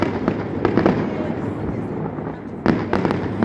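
A Mardi Gras fireworks display on a waterfront: a continuous rumble of distant booms and crackles, with louder sharp bursts standing out, and crowd noise mixed in throughout.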